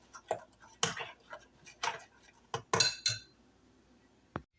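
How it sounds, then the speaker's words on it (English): Egg being beaten in a bowl for banana nut bread batter, a series of sharp clinking utensil strikes against the bowl, irregular and close, with quiet pauses between bursts. "mix that up real good. Make sure the egg is beaten."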